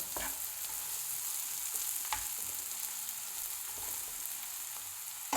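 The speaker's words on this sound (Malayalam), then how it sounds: "സവോള നന്നായിട്ട് വറുത്തെടുക്കണേ നല്ലോണം വറുത്ത്" Steady sizzle of onions frying with a few scraping stirs of a spoon in a pan, no voices, moderately quiet throughout.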